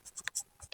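Chalk or marker writing on a classroom board gives a few quick, faint scratchy strokes in a brief burst, close and unaccompanied by speech.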